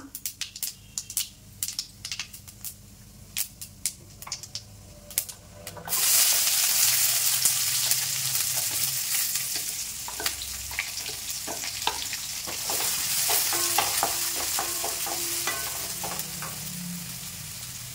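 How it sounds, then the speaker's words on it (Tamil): Sizzling of a large chopped onion added to hot oil with bay leaf, cinnamon and cardamom for an egg paniyaram gravy, starting with a few stirs and clinks, then a loud steady fry with stirring scrapes throughout. "நறுக்குன ஒரு பெரிய வெங்காயம் சேர்த்துக்கலாம்."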